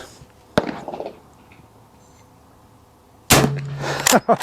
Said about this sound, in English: Let's just forego the target and shoot jugs.